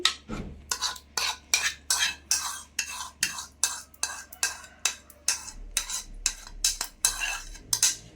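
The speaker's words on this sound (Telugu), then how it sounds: "కవ్వు ఉంటుంది కదండి అదైతే పెట్టి గడ్డలు లేకుండా కొంచెం స్మూత్గా వచ్చేలాగా ఇలా తీసుకోండి" Thick curd whisked in a bowl with a wooden churner, giving a fast, even series of swishing, slapping strokes, roughly two to three per second, close and loud, with no one speaking.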